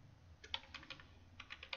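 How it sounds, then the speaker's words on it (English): Quick light typing on a computer keyboard entering a web address, a short burst of soft clicking keystrokes, close and faint over a low hum. "Just type in your URL"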